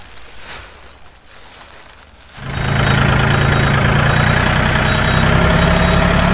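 A tractor engine starts up loud and close and settles into a steady, heavy rumble while pulling plastic sheeting over strawberry beds in a field, after a quieter stretch of outdoor background.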